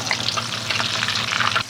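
Buttermilk-battered chicken frying in a Hexclad frying pan, a steady dense sizzle and crackle of hot oil, close and continuous, ending with a slight drop at the end.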